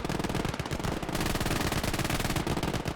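Machine gun fire in a Battle of the Bulge battle in the Gates of Hell game, loud rapid bursts of rattling shots running almost nonstop with brief gaps, no voices.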